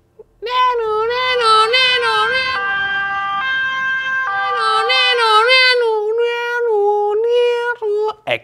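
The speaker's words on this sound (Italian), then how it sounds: "L'effetto Doppler è quello praticamente del suono di un'ambulanza" A loud, close wailing siren sweeps up and down continuously, then cuts off briefly near the end before resuming.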